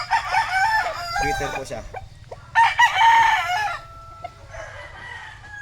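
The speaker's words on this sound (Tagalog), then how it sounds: "ito yung bagong dating namin ng mga manok" Chickens newly brought to a farm from a flooded coop in Parañaque crow and cluck loudly nearby in repeated bursts, while a person speaks briefly over them.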